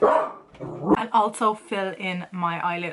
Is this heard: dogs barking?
yes